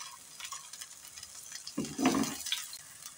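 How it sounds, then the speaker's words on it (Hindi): Eggplant slices fry in hot oil, a faint soft sizzle with a brief louder burst of stirring and crackling midway, quiet and close. "यहाँ पे जी बैंगन हमारे फ्राई हो रहे हैं।"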